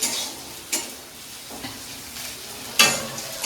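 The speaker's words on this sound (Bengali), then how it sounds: "পেঁয়াজটা একটু মোটামুটি লাল লাল মতো ভাজা হয়ে গেছে এর সঙ্গে কাঁচা লঙ্কাটাও দিয়ে দিয়েছি দিয়ে ভালো করে ভেজে নিচ্ছি" Onion and green chillies frying in a pan, a close steady sizzle broken by intermittent sharp scrapes of a spatula stirring against the metal.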